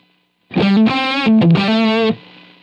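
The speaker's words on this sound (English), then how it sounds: "We hear some of that noise, and it takes a full second before that gate fully closes and chops it off." A noisy distorted electric guitar preset rings a loud, sustained chord for about a second and a half, then cuts sharply as a slow-closing noise gate shuts, leaving a faint fading hiss that dies away.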